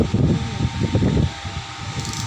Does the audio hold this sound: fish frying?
no